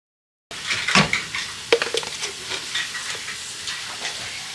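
Garlic and crawfish sautéing in a pan for a stuffed pork loin, a steady steamy sizzle with clinks of a utensil against the pan, close and moderately loud, no talk.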